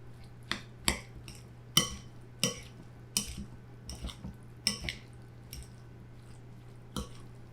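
Mixing zucchini stuffing filling with parmesan in a bowl, a series of about a dozen sharp scraping clinks and wet squishes in an irregular rhythm, close and clear against a faint steady hum, with no talking.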